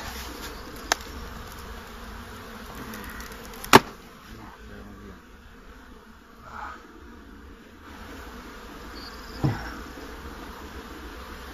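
Honeybees drone in a soft, steady hum around beehives, with a few sharp knocks and taps from the hives standing out above the buzzing.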